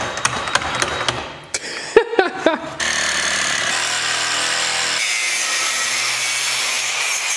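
A flange is cut off the downpipe of a 2004 Volvo V70 R with a catless downpipe, making a loud, continuous saw-like grinding that runs steadily after a few sharp knocks and clanks.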